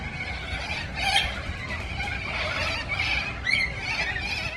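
A dense flock of corella cockatoos screeching and squawking continuously over town streets and rooftops, harsh overlapping calls filling the air with no pauses.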